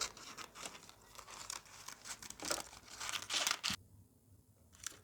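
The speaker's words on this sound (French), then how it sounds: "Je vais couper les excédents de papier." Excess baking paper is cut and crumpled by hand close up, a busy run of crisp crinkling, rustling and tearing bursts, then a short quieter pause before one last rustle.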